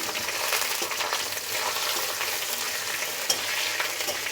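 Panch phoron spices sizzle lightly in hot oil, a steady close crackling hiss with occasional stirring scrapes and no talk.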